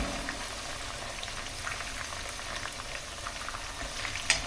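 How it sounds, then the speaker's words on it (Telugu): Curry leaves hitting hot oil in a tempering for puliyogare, a steady crackling sizzle with scattered pops that runs low and even throughout, ending on a sharp little clatter. "తాలింపు ఒక్కసారిగా కరివేపాకు వేయగానే"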